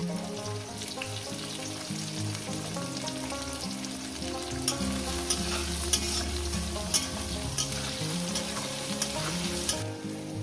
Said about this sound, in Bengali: পেঁয়াজ কুচোটাকে দিয়ে মিনিমাম আমি দু থেকে তিন মিনিট এটাকে ভেজে নেব